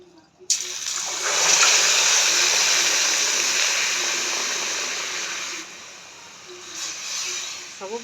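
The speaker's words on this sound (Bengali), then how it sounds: "এই বাটি 2 বাটি জল দিয়ে দিব।" Water pours steadily into a pot for sugar syrup, a sustained hissing gush that starts abruptly, runs for several seconds, then tapers as the stream slows.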